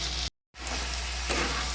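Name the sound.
thecha chicken spices sautéing in a pan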